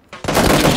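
Loud, close bursts of gunfire in the battle royale game PUBG Battlegrounds, starting abruptly and continuing as a dense, sustained volley.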